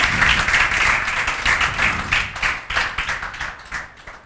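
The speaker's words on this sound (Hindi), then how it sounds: "लक्ष्य सदाना के लिए बजाओ भाई तालियां" Students in a class clap together in uneven, individually audible bursts, a fairly close, loose round of clapping with no talking over it.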